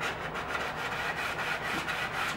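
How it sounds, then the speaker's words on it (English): A sanding sponge rubs by hand over a routed wood panel, making soft, rhythmic scratchy strokes in quick back-and-forth succession at close range. "I go in with the sponge and use it just to smooth out the areas that you hit with the router"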